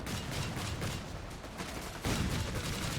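Dense, continuous gunfire and explosions from a battle in Company of Heroes 3, with an anti-aircraft gun firing amid the fight, a loud, steady barrage with a sharper burst about two-thirds through.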